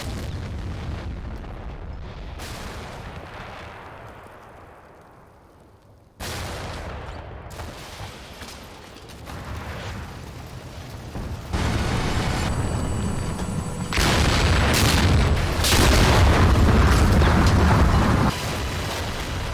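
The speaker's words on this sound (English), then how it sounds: "Подтверждаем, минометный обстрел начат." Mortar barrage explosions boom in the video game Combat Mission Black Sea during a multiplayer bridgehead battle at Kharalyk, with repeated heavy blasts and rumbling bursts that grow louder and denser over time.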